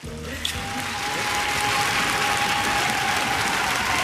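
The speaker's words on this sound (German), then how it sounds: "Einen grossen Applaus" An audience at the final of a Swiss rural-cooking show breaks into loud, sustained applause that swells within the first second and carries on steadily to the end, with brief speech at the start.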